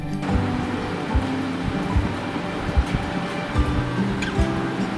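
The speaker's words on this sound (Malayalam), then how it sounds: "കോടമഞ്ഞ് ചാറ്റൽ മഴ ഇതുപോലെ ഭംഗിയുള്ളൊരു സ്ഥലം മഴയുടെ ബി ജി എമ്മിൽ ചുമ്മാ ഒന്ന് നടന്നു നോക്കിയാലോ" Steady light rain with mist patters all around, with occasional soft thuds in the background and no voices.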